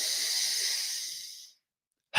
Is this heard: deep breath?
yes